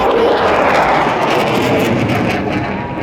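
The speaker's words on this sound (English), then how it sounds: "So keep looking at the aircraft and let's see how many rolls can" Jet aircraft roar overhead during a flypast performing rolls at an Independence Day parade on Kartavya Path, a loud, steady, broadband rush that slowly eases, with no voices.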